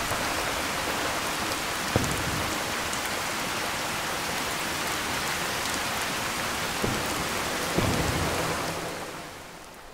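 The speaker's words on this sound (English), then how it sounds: "Man, it's supposed to be daytime, but it's raining." Steady heavy rain pours down in Fallout 4, a dense hiss with a few faint thumps, continuing evenly before fading out at the end.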